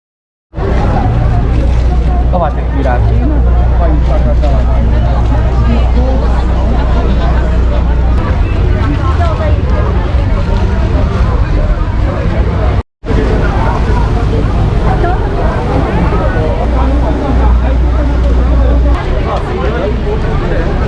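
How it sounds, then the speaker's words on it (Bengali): Ferry boat speeding toward Centre Island, Toronto, a loud constant rumble of engine, water and wind buffeting the microphone, with people talking nearby throughout and a brief dropout partway. "খুব দ্রুত গতিতে এই বোটটা চলে আসছে"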